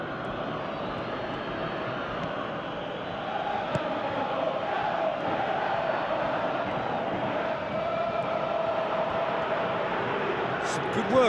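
Stadium crowd in the football video game PES 2017 roars as a broad, steady wash of noise, swelling slightly partway through and continuing throughout at a distance.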